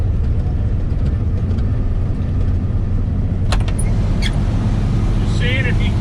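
A combine harvester with four-wheel drive runs steadily as a loud, continuous engine drone close by, with brief scraping and rustling near the end as if brushing past pine branches.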